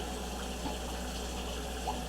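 Tap water runs steadily while oxtails are rinsed for a Jamaican oxtail dish, a continuous close hiss over a low hum with no talk.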